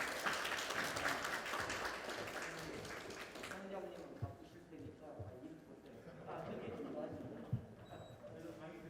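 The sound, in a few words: audience applause welcoming the speaker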